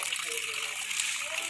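Water flows on its own out of a well in Aceh where gas escapes and burns above, giving a steady, close splashing gush with no pause.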